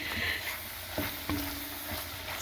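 Pork meat fries in a pan for a copycat Zuppa Toscana, giving a continuous hissing sizzle broken by a few sharp pops and a stir or two, close and alone.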